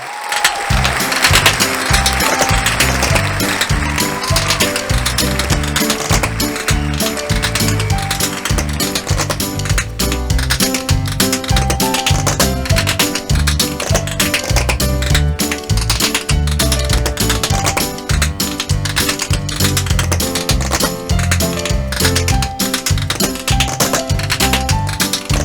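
A musician plays an adjustable spanner as a musical instrument with an orchestra, performing a piece: continuous loud rhythmic metallic clanking and tapping over a full band accompaniment, steady throughout without talk.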